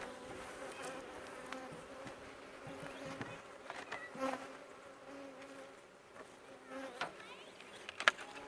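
Bees buzz around hive feeders, several drones rising and fading as individual insects pass close, some brief louder fly-bys over a quiet background and no talking.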